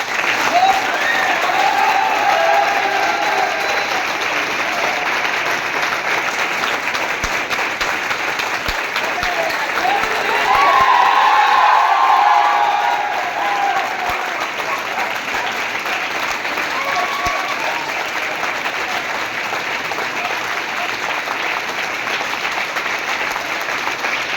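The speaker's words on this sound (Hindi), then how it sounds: "अब हम चाहते हैं एक बार आप सब लोग अपने लिए जरूर ताली बजाइए" Classroom audience at a motivational session claps for themselves in a long, sustained round of applause, steady and dense with a brief swell near the middle and occasional shouts.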